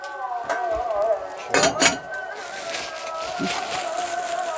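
A metal cooking pot lid clatters and clinks as it is handled in a home kitchen, with a couple of sharp close metallic knocks over a quiet background and some faint talk.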